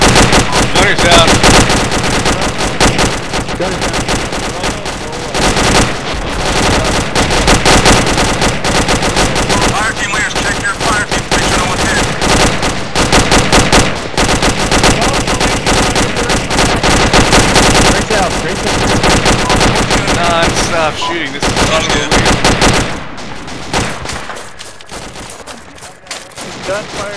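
Dense, continuous machine gun fire and rifle shots in an Arma 2 infantry firefight, loud bursts overlapping from many directions for nearly the whole stretch, with voices shouting under the gunfire before it thins near the end.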